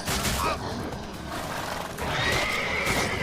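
Roach, Geralt's horse in The Witcher 3, neighs loudly twice, a short whinny near the start and a longer rising one later, over steady clip-clop and game ambience.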